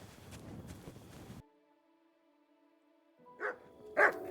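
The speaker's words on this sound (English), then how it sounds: "Good dog, Mutt." A dog in Kingdom Come: Deliverance II gives two short barks near the end, after a stretch of footsteps and movement and a quiet pause.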